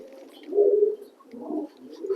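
A pigeon coos nearby in soft, throaty rolling phrases, two or three low calls in an otherwise quiet space.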